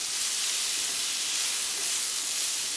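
Tempeh sizzles steadily in a pan with egg noodles, a loud, continuous broadband hiss with no break and no voices.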